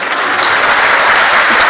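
A standing crowd in an auditorium at a book fair applauds a former Colombian president, dense sustained clapping filling the whole stretch at steady loudness with no pauses.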